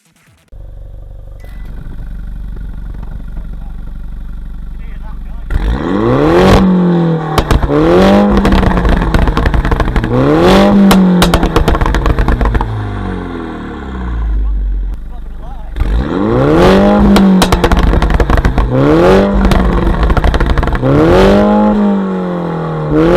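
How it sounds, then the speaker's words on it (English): A Mini Cooper S JCW engine revs repeatedly in rising and falling sweeps, loud and close, with sharp exhaust pops and bangs crackling on each lift-off between the revs. "some valves open in the exhaust and it really pops and bangs that car"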